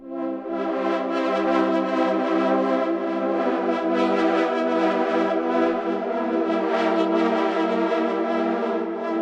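A synthesizer patch called Opal sustains a rich, buzzy chord with a shimmering, slightly pulsing texture, steady and loud throughout, with no voices.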